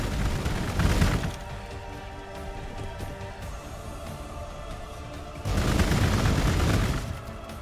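Gunfire in Warhammer 40k Gladius plays as loud bursts of shots and booms at the start and again near the end, with a quieter rumbling stretch between.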